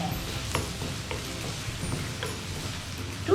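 Crushed garlic and ginger fry in hot ghee or oil with a steady, close sizzle, and soft stirring clicks tick through it. No one speaks.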